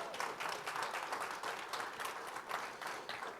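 A church congregation claps hands in praise, a faint, rapid burst of many hands clapping together in a hall, fairly distant and steady for a few seconds.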